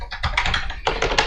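A folder name typed on a computer keyboard, a quick, loud burst of close key taps, about a dozen strokes in a fast even rhythm with one brief pause midway.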